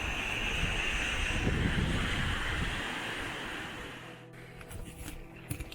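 A rocky mountain river in the winter Chernobyl zone rushes and churns as a loud, steady roar that fades slightly toward the end, with faint handling noise at the close.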